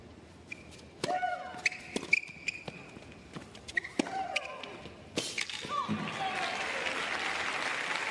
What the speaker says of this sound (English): treated by a huge reception from the crowd